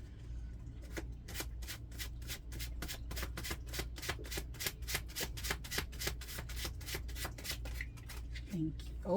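A deck of tarot cards is shuffled in a long run of quick, crisp riffling flicks, steady and close, with a low hum underneath.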